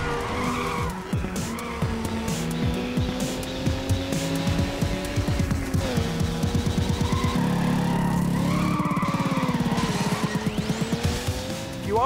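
Cars in a driving video game race and skid, with a constant high engine whine, repeated sharp tire squeals and rattling skids, loud and close with no talking.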